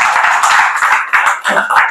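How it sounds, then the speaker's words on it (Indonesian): A church congregation at a Pentecostal Sunday service claps loudly and steadily for about two seconds, a dense, rhythmic wash of hand claps filling the room without any voices over it. "Tepuk tangan buat Tuhan Yesus."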